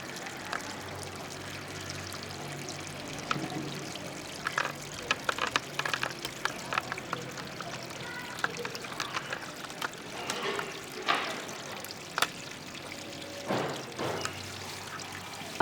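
Water pours and trickles steadily into a garlic garden bed for a long stretch, with soft splashes and gurgles rising and falling, close by and without voices.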